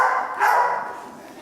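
A police working dog at an annual awards ceremony in Clayton lets out a short, loud, excited bark or yip, close by and alone.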